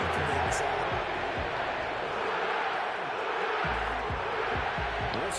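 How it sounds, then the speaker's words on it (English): Dense, steady roar of a stadium crowd at a football game, loud and continuous throughout with occasional low thumps, during a tight fourth-quarter moment. "This crowd turning up the decibel level"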